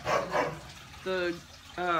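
Dogs bark in the morning before being fed, giving two short, muffled yelps and then two longer, whining howl-like barks, faint and somewhat distant.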